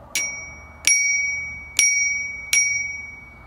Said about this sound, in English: This is your bell.